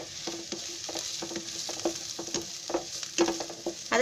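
Onion and grated fresh coconut fry in a pan with a steady bright sizzle, broken by rhythmic scraping and clinking strokes as a spatula stirs them, close and fairly loud, with no talking.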